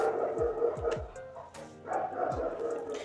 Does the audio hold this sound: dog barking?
yes